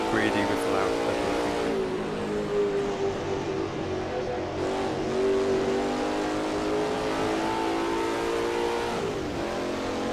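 A Lola T70 MkII Spyder race car with a Ford engine, driven at Road America in a racing game, holds a steady, droning engine note that rises and shifts with throttle, running continuously under someone talking.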